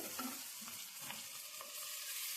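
Cooked toor dal, pressure-cooked to one whistle, going into a pan and stirred for a North Karnataka dal palya; soft scraping and stirring strokes with a light sizzle, close and steady, no talking.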